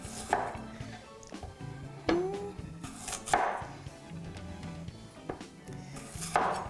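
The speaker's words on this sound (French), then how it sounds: "donc là, je coupe mes quartiers." A knife cutting potatoes into wedges on a board at home, during a garlic-themed cooking session, gives several separate sharp chopping thuds spread over a few seconds. No one speaks.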